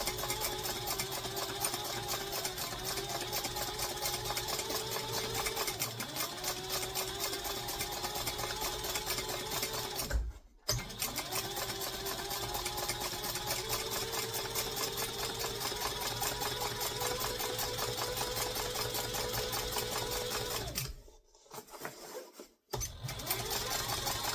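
A sewing machine runs steadily as it stitches around a bucket bag close to a first row of stitching, with a continuous near whir and two brief pauses; no one speaks.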